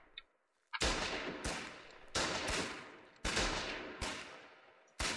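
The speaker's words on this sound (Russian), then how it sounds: "тут нас закидывают гранатами" Grenade blasts and gunfire from the online war game Foxhole: four or five loud, sharp explosions burst about a second apart, each decaying quickly, with no talking.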